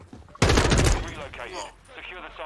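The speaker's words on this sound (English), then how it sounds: "The guns sound good." Gunfire from a Modern Warfare 2 video game trailer: a sudden loud burst of rapid shots, then a dense, rumbling, echoing roar of battle that fades and swells, with a voice partly over it.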